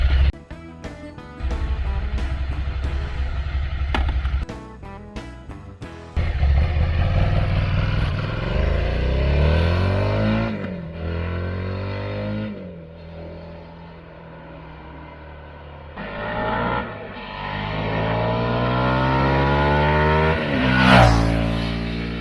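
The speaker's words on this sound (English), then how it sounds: "The engine feels powerful and it's torquey" A Suzuki SV650 V-twin motorcycle on a test ride, its engine loud and close throughout, revving up through repeated gear changes with rising and falling pitch sweeps and a brief high burst near the end; no talking.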